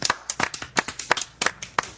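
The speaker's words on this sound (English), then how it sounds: "I feel we need a round of applause for episode 50." A handful of podcast hosts give a short round of applause for their fiftieth episode, close, uneven claps tumbling over one another for about two seconds, with no talking.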